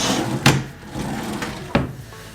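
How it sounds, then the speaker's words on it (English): Wooden storage drawers in a resort villa bedroom slide and knock shut, giving two sharp close thuds with a soft scraping slide between them. "there's drawers down here for storage"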